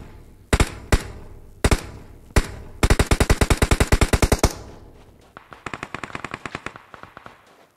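Gunfire in PUBG Mobile: a few single shots spaced apart, then a rapid automatic burst, and after a pause a quieter, more distant burst of shots.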